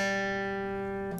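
A single clean guitar note played fretted rather than with a slide, steady and sustained for just over a second, ringing alone with no pitch glide.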